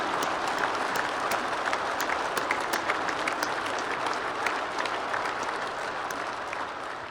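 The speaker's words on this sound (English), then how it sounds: "Can we just get a round of applause for Lifestyle did it?" Sustained, dense applause from a crowd, loud and even throughout, with crisp individual claps standing out and a slight fade toward the end.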